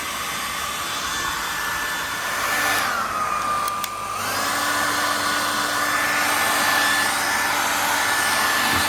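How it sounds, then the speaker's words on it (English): An electric heat gun blows steadily on the tyre cover of a Begode Extreme electric unicycle during a tyre and bearing change, a continuous close airy whine that dips briefly in pitch midway before resuming. "Just warming up the cover, so it comes off a bit easier."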